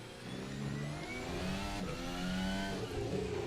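A Formula 1 car in the F1 2025 video game, on a United States Grand Prix pole lap, accelerates with a loud, continuous engine whine that climbs steadily in pitch, with no voices over it.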